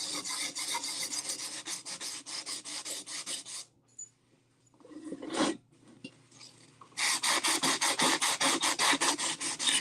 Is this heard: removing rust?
yes